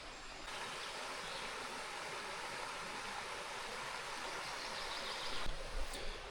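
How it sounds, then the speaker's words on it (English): A forest waterfall cascades into a small stream, producing a steady, full rushing roar of water that holds even and continuous throughout with no voices. "Behind me is this waterfall. Here is something like cascade, maybe. So you can hear this water."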